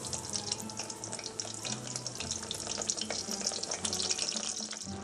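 Steady bubbling and sizzling of katlı kesgen dough frying in hot oil, a continuous crackling hiss close by, with faint background hum and no talking.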